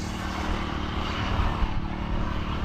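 A farm engine, started to run the watering for an okra field, drones steadily and continuously close by, a rough, even rumble with no pauses and no talking.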